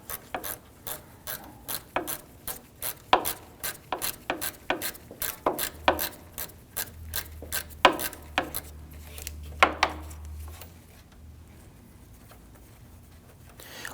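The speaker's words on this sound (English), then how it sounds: "On the passenger side, the AC condenser is bolted to the radiator via this 10mm bolt. I'm going to use a gear wrench to get in there." Gear wrench ratcheting a 10mm bolt holding the AC condenser to the radiator of a 2010-2019 Ford Taurus, a steady series of sharp metallic clicks with a low hum underneath, close and then fading out.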